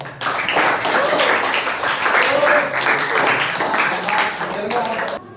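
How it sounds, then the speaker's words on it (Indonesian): A class of tenth-grade students claps for everyone at the end of a lesson, a lively, uneven round of clapping mixed with voices and chatter before it cuts off abruptly. "Tepuk tangan buat semuanya."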